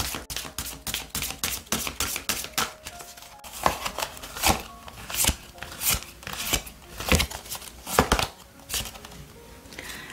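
Oracle cards for a tarot reading are shuffled by hand, giving a quick run of crisp papery riffles and taps in irregular bursts, close and fairly quiet, with no one speaking.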